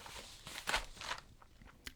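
Old, crunchy paper page being handled for a junk journal: brief rustling crinkles and crackles, close and quiet, with a few sharper crisp bursts.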